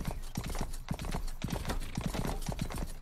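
Galloping horse hooves in a video game: quick, even clip-clop beats at a steady cross-country pace, fairly faint and continuous, without talk over them.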